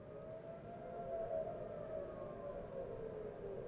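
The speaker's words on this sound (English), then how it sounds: "You can hear these sirens blaring out. These are these air raid sirens." Air raid sirens sound outdoors during the Israel-Palestine conflict, a steady distant wail that swells slightly and holds throughout with no speech.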